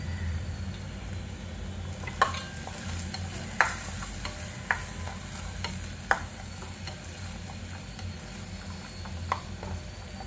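Green peas stir-fried with onion in a pan give a constant soft sizzle, broken by periodic sharp clacks of the spatula against the metal every second or so, close up.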